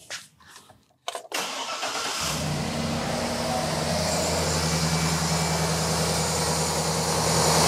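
A car engine cranks with a couple of short clicks and whirs, catches and settles into a steady, fairly loud cold idle with a low throbbing hum that rises slightly toward the end, no voices.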